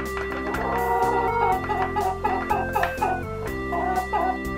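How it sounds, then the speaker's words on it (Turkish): Electronic toy chickens from a farm toy set cluck in bursts over a droning synthetic musical tone, loud and close, with no talking. "Bunlar tavuk."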